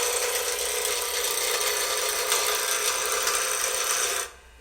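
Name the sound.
Easy Wood Tools turning tool cutting into wooden workpiece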